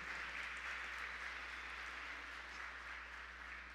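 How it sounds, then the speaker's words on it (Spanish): Audience applause at a regional school oratory final in Coclé, Panama, a steady wash of many hands clapping that fills the whole stretch without pause, moderately loud and even, with no talk over it. "Fuerte el aplauso para nuestros amigos de Mi Ambiente."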